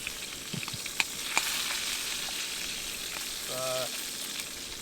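Polish bacon frying in a pan, a continuous crackling sizzle with a few sharp pops, and a brief tonal squeak near the end.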